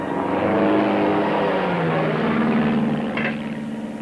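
Airplane engine in 1930s Wyoming running rough, a loud continuous droning hum with uneven, wavering harmonics that dip slightly near the end, heard alone without talk.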